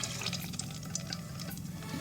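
Warm melted fat pours steadily into a pot with a soft, continuous trickling sound, quiet and close, with no one speaking.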